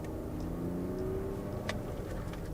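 A BMW on a test drive, its engine humming steadily at moderate volume with a faint rising whine and brief tonal accents, no talking over it.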